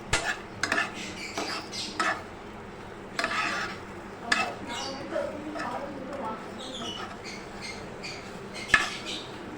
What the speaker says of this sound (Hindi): अब हम इसे इसी घी के अंदर खूब अच्छे से फ्राई कर लेंगे ताकि गाजर का भी कच्चापन निकल जाए